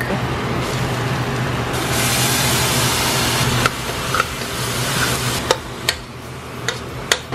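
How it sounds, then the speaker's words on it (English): Pork and garlic fry in a pan, giving a steady loud sizzle throughout, with a few sharp clinks of a utensil against the pan near the end. "Adding the garlic. Time to add the pork."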